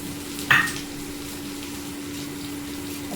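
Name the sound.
frying onion and red chili for saag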